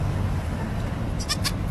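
A goat lets out a short, high bleat near the end, heard over a steady low outdoor rumble.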